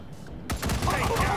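Gunfire in the video game Wasteland 3 starts abruptly after a brief quiet moment as a dense, rattling burst of shots that continues to the end.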